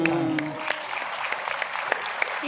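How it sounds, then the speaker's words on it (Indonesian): Audience applause at a health talk, a steady dense patter of many hands clapping throughout, with a voice briefly speaking over the start. "Boleh tepuk tangan."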